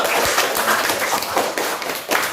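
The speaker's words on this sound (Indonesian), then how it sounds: "Kasih tepuk tangan dulu untuk kelompok 1." Classroom of fifth-grade students clapping for a presenting group, a dense, steady patter of many hands filling the moment with slight swells, some voices underneath.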